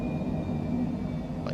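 Twin jet engines of a Cessna Longitude in Microsoft Flight Simulator 2020 drone in a steady low roar with a faint high whine as the throttles come back.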